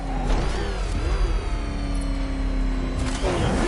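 The Batmobile's engine revs in Batman: Arkham Knight, a loud sustained whine that rises and falls in pitch, with whirring mechanical tones layered over a constant low rumble.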